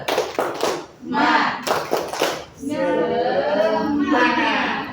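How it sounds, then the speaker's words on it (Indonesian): A group of children claps a rhythmic spirit clap in a classroom, sharp patterned claps in quick bursts, followed by voices chanting together. "Tepuk semangat."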